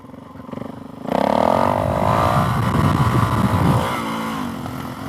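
A Suzuki DRZ470 supermoto motorcycle revving nearby: a low idle swells into a loud, sustained rev that rises and falls, with popping from the exhaust as the throttle eases off.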